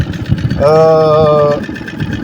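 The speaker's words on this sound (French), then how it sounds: "je laisse mon moteur allumé. Là il est en prise, hein, donc il est en marche avant, il est au ralenti." A sailboat's outboard-style engine on a 22-foot Kelt 620 idles in forward gear, a steady mid-pitched humming drone rising briefly to a clear tonal whine, with talk around it.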